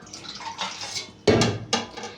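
Water poured into a pan of soaked dried peas for boiling, heard as splashy close-up bursts of pouring and sloshing with brief pauses between, with no voices.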